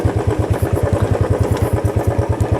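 A parked motorcycle idles close by at an orchard grove, its engine thumping in a quick, even rhythm with a slight mechanical clatter and no voices.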